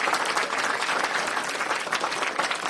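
School audience gives teachers a hearty round of applause at a Class VII project event, steady dense clapping filling the whole stretch, loud and close, with no talking over it.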